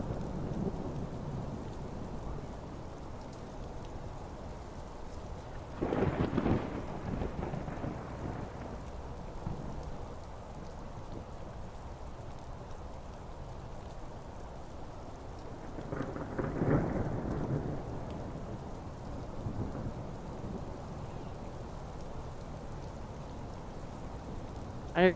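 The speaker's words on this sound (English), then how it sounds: "There does seem to be a crash of thunder coming from the game" Rain falls steadily in a video game, broken by two loud, rumbling thunder crashes a few seconds apart, close and full, with no talking.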